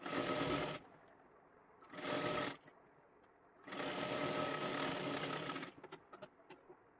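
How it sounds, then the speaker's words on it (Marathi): A sewing machine stitches a sleeve in three separate bursts, a short run, a second short run and a longer one, with quiet pauses and small clicks between, close and clear with no talking. "आता इथे आपण शिलाई मारून घेतली."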